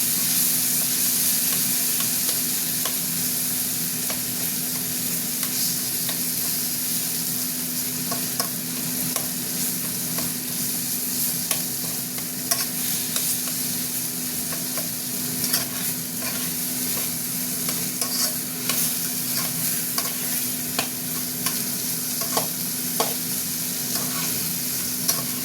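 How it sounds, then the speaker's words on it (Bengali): Tomatoes are stirred into vegetables frying in a pan for a vegetable dal. A constant close sizzle carries on throughout, with scattered scraping clicks from the stirring spoon. "টমেটোটা দিয়ে একটুখানি টমেটোটা করে দেবো, ঘেটে দিচ্ছি।"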